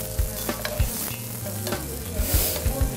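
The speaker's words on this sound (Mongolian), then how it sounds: "Шаргаад өгнө да." Vegetables stir-frying in a hot pan, slower-cooking ones first, with a loud continuous sizzle broken by rhythmic spatula knocks and scrapes close by.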